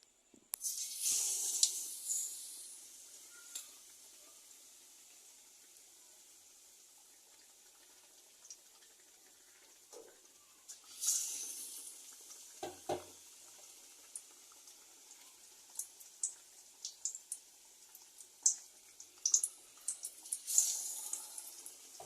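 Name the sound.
potato chops frying in oil in a wok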